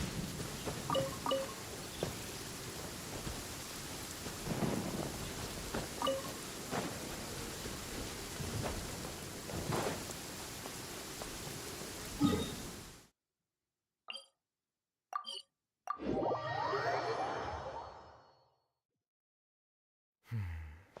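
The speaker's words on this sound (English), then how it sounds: "This heavy rain must be quite an inconvenience for you." Heavy rain in the Genshin Impact video game pours steadily as a dense hiss for several seconds, then cuts off abruptly, followed by brief scattered sounds and a short swelling burst.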